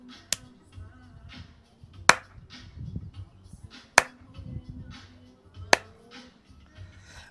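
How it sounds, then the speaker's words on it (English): Three sharp, loud hand claps spaced about two seconds apart, with a fourth added a little later, all close and crisp over a quiet room with faint background murmur. "Let's do the 3 claps"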